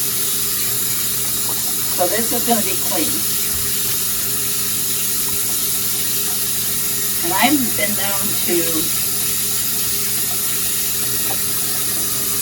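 Antique and vintage doll clothes being rinsed under a running faucet, a steady loud hiss of water throughout while someone talks briefly over it.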